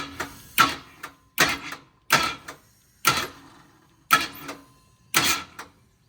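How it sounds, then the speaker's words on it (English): An engine is turned over slowly by hand, and seven evenly spaced whooshing compression strokes arrive about once a second with quiet gaps between them. "Hear the compression stroke on it?"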